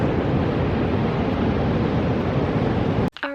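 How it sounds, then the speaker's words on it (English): Loud surf on an Oregon coast beach, a dense continuous wash of crashing waves and wind filling the whole clip before cutting off abruptly near the end. "I don't know if you can hear me because the ocean's loud"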